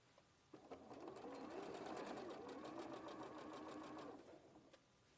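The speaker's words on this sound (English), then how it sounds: "we'll just sew across the top and across the top." A sewing machine stitches across the top of pinned, interfaced fabric in a steady fast whirring run of about three and a half seconds, starting and stopping cleanly, close and fairly quiet.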